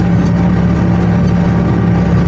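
A steady, loud inline six-cylinder engine drone with a deep low hum, running continuously without change, close by.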